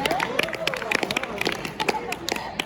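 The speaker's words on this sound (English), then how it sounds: "Round of applause for Carlson" An audience gives scattered, uneven applause for a contestant named Carlson, with sharp individual claps mixed into crowd murmur and a voice talking over it.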